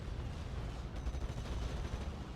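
A mortar firing in the WWII strategy game Steel Division: Normandy 44, heard as dense, continuous, distant-sounding battle noise with rumbling blasts and crackling gunfire blending into a steady wash.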